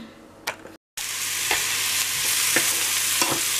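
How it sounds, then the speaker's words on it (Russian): Mushrooms and green peas sizzle steadily in a frying pan in a home kitchen in Spain, a loud close hiss after a brief cut, with a few soft stirring clicks. "Жарю грибочки"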